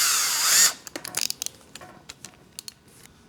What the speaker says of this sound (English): finish it off with a 1/4 inch drill